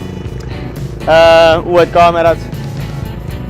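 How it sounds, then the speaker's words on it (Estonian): A tractor at the Photokina 2014 photo trade fair, used for putting up signs, revs loudly in a brief whining burst amid a busy hall with people talking throughout. "Panasonic paneb oma silte üles traktoriga"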